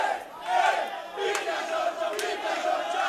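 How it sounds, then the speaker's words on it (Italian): A crowd cheers and shouts at an MMA fight in a cage, a steady roar of distant voices with a few sharp bangs, fairly loud and continuous. "Ovviamente sale il tifo che arriva da Livorno per Italian Bear Giorgio Pietrini"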